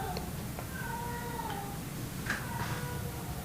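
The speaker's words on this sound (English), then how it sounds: "I think my cat is having a little bit of a nervous breakdown" A house cat gives a few faint, drawn-out meows over a steady background hiss, close by but quiet, with no one talking at the time.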